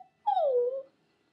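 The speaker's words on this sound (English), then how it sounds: "Look at my puppy." A young cocker spaniel puppy gives a single drawn-out whimper lasting about half a second, a falling whine heard close up in a quiet room with no talk.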